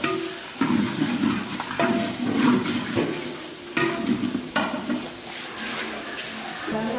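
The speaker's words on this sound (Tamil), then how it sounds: "சின்ன வெங்காயத்தை அப்படி சேர்த்து நல்லா வதக்கி விடுறேன்" Close sizzling and crackling as shallots sauté in oil, broken by occasional scraping stirs of a spoon in the pan, without talk.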